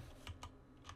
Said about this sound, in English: I got a new keyboard and mouse for Christmas